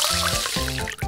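Clam juice poured into a miniature New England clam chowder in a tiny kitchen, heard as brief close dripping and liquid splashes in a short burst with no talking.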